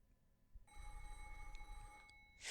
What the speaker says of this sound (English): sprang awake at the sudden sound of the phone